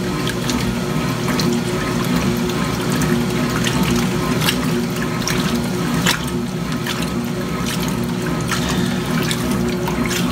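An 80s Kenmore laundry center washing machine runs its wash cycle, with loud continuous rushing and sloshing water over a low motor and pump hum, steady and close throughout.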